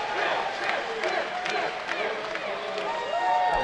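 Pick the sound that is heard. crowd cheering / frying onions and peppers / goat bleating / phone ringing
crowd cheering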